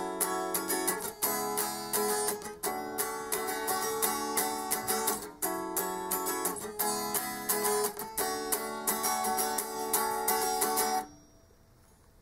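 Electric guitar strumming the opening rhythm part of a song, bright repeated chords in a steady, driving pattern with brief accented breaks, loud and continuous before fading out at the end.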